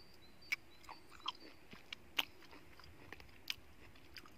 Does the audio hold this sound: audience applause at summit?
no